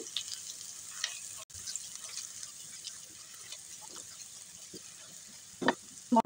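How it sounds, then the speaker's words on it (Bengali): Chili powder, coriander powder and turmeric being stirred together in a hot pan, with a faint, steady sizzle and soft scraping of the spoon, closing with a few louder clanks. "সব মশলা একসঙ্গে ভালো করে মিক্স করে নিচ্ছি।"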